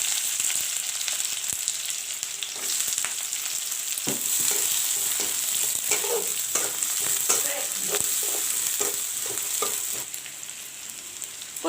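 Onions and dry red chilies frying in oil for plain masoor dal: a continuous close sizzle with stirring scrapes and crackling pops that grow busier partway through, without any talk.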